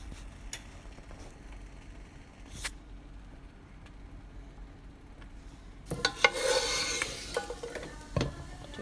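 Raisins frying in a pan for barley payasam give a soft sizzle and stirring scrapes that grow louder near the end, after quieter scattered clicks and taps.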